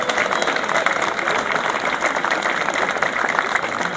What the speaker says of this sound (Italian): un grande applauso prima di iniziare ufficialmente questo nostro momento